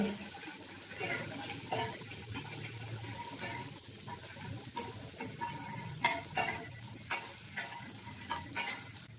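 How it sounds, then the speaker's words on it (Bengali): Onions fry in a pan with a steady sizzle while a spoon scrapes and stirs them, giving repeated clinks and bumps that grow more frequent near the end. "এটাকে লাল লাল করে ভেজে নেব।"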